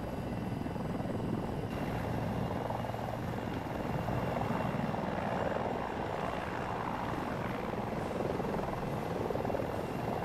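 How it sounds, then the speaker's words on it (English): Helicopter flown in the video game Battlefield 2042 drones with a loud, steady rotor and engine roar throughout, close and continuous with no pauses. "I'm flying a plane right now. I mean a helicopter."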